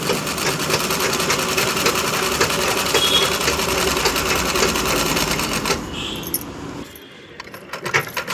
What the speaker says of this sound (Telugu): శారీకి ఫాల్ వేస్తున్నాను శారీకి ఫాల్ వేస్తున్నానండి